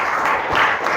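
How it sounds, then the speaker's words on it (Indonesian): Classroom applause for a presenting group: a short, dense burst of steady clapping from many hands in a room, heard alone without talk. "silakan tepuk tangan untuk kelompok"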